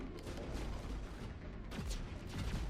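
Geth enemies trade gunfire in the Mass Effect 1 video game, with rapid overlapping shots and booming bursts forming a dense, loud fusillade that continues throughout, with no voices over it.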